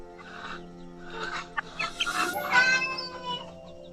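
Chickens sick with snot and respiratory infection, heard up close as a mix of wheezy rattling breaths, small squawks and clucks that rise and fall over a few seconds, with no talking.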